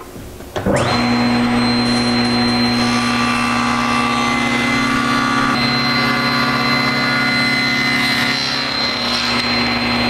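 A table saw with a tenoning jig and toggle clamps spins up with a sudden loud whine and holds a steady high hum as it cuts through a board, its pitch shifting slightly partway through, with no talk.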